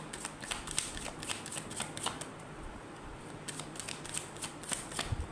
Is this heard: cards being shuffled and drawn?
yes